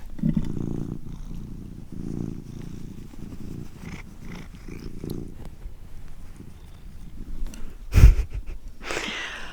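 Close, soft purring from a cat rises and falls in slow rhythmic waves, with a brief louder rustle near the end.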